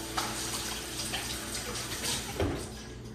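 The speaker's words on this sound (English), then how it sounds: "The reason I wash my hands, I don't like my containers all covered in oil and stuff when I use them." Hands are washed under a running kitchen tap while a Sunday roast is being prepared. The water makes a steady, moderately quiet rush with small splashes throughout, and no one speaks.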